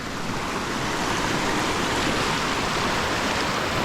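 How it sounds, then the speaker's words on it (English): A fast-flowing creek meanders over rocks at Punchbowl Falls in New South Wales, producing a steady, dense rushing wash of water that stays even and close throughout. "It's a fast flowing creek, but it's very, like, it just meanders through the rock."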